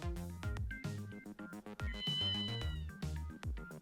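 Cartoonish cat meows from the video game Ghost Trick repeat over bouncy, rhythmic game music, several short mewing cries that are fairly clear against the beat.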